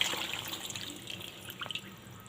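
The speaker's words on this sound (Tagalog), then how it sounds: "Ilagay na natin yung tubig. Ayan, buhos na natin." Water is poured into a cooking pot while making ginataang isda, a spicy coconut-milk fish stew: a brief, close splashing pour with light dripping and no talk.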